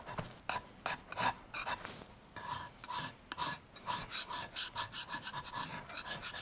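Paint stripper being scraped off teak furniture during restoration of a mid-century modern dining set: repeated close, rasping scrape strokes in an irregular rhythm, with no talking.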